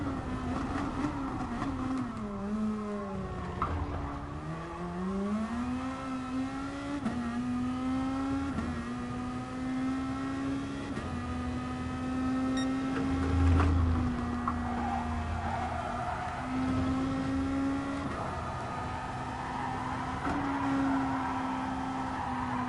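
GR.2 race cars lapping Fuji Speedway in GT Sport, a loud close engine drone with rising and falling revs through gear changes and a brief tire squeal or bump midway, running continuously without talking.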